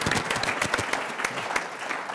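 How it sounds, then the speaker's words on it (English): An audience at a panel discussion gives a round of applause for a doctor who has just arrived. Many hands clap in a lively, slightly uneven patter with distinct individual claps, fairly close and loud, and no talk over them. "can we give him a big round of applause because he just came in"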